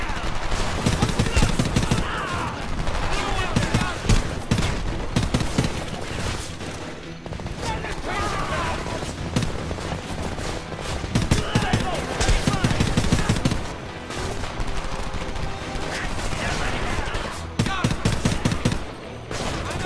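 Dense, continuous gunfire from the video game Homefront, with rapid machine-gun bursts and overlapping shots rattling loudly for the whole stretch amid in-game voices and battle noise.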